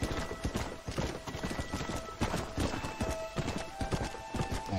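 Horse hooves clip-clopping steadily at a riding pace in the Xbox 360 game Red Dead Redemption, close and continuous throughout, with faint game ambience underneath.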